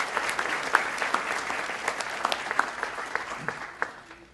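An audience at a State of the City address applauds council member Art Brown, a dense wash of clapping with a few sharp nearby claps standing out, gradually fading toward the end.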